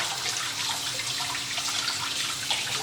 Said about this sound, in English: I scrub and I let the water rinse them off as I scrub